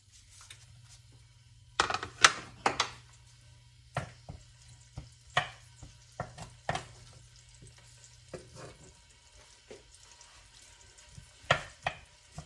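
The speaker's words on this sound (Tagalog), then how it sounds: "At ilalagay ko na ang bawang sibuyas." Crushed garlic and onion go into a pan for a Filipino pork and bean sprout dish, with a low hiss of sautéing beneath scattered sharp taps and clicks of a utensil, quiet and close, without speech.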